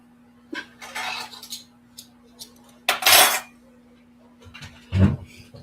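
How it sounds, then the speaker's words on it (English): Dishes, cutlery and pots clatter and clink in a kitchen sink in irregular bursts with short quiet gaps, close and fairly loud over a low steady hum. "Now I'm going to do dishes again."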